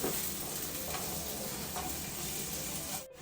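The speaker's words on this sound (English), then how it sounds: "we're gonna saute some onion and garlic." Onion and garlic sauté in a pan for a shepherd's pie, giving a steady, close hiss of frying with faint stirring scrapes throughout and no talking.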